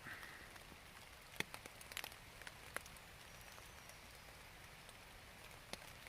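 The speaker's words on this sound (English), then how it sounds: "You can hear the rain hitting the tarp a little bit." Light drizzle falls on a tarp over a hammock in a Pennsylvania canyon, with faint scattered droplet taps, a few sharper close hits, and a soft background hiss of water.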